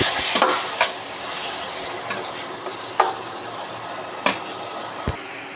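Chopped tomatoes fry in a pan for a dried prawn and sweet potato curry, with a soft continuous sizzle broken by a few sharp clicks and scrapes of a stirring spoon, close by and without talk.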